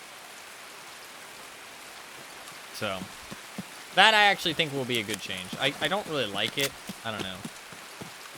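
Steady hiss of heavy rain in the video game Escape from Tarkov holds under the whole stretch, while a person talks loudly over it for most of the clip.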